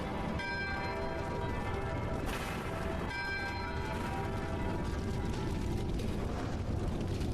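A church bell rings nearby in a dubbed Hollywood romance film, steady resonant tolling with shimmering overtones layered over a dense, noisy background, with no speech over it.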